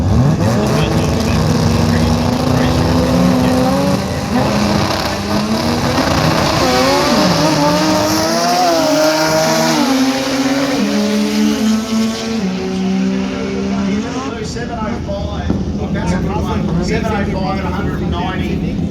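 Pro Compact drag racing cars roar off the line and accelerate down the track during qualifying at the Brisbane Jamboree 2024. Loud engine notes climb and shift in pitch over about nineteen seconds, with an announcer talking over them.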